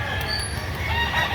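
Chicken sounds from a stag rooster of about six months at a poultry market in Lipa, Batangas, heard briefly and up close amid steady market background noise.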